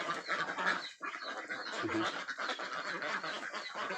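Female ducks quack loudly and continuously in a noisy flock, harsh overlapping calls filling the air with little pause.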